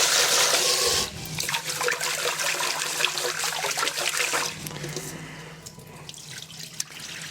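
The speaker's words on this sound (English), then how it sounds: "So we're going to rinse the rice." Rice is rinsed under a running kitchen tap, the water rushing and splashing loudly at first, then settling into softer trickling and sloshing as the grains are swirled.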